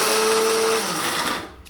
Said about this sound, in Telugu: ఇప్పుడు వీటిని మెత్తటి పేస్ట్ లాగా మిక్సీకి పట్టాలి.